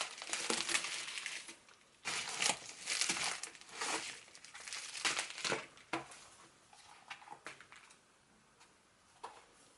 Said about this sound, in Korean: 제가 어떤 책을 펀딩했는지 한번 같이 뜯어볼게요.